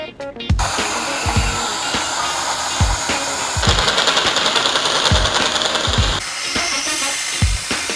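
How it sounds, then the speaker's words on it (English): A tube notcher cuts a notch into steel tube for a mini Jeep build, a loud steady motor whine with grinding cutting noise and repeated low thumps about every second, close and alone. "So we can take it over the tube notcher and notch it there"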